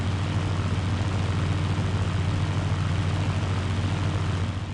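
A torpedo plane's propeller engine in Battlefield 1942 drones loudly and steadily from start to finish, a close, constant low hum with no voices over it.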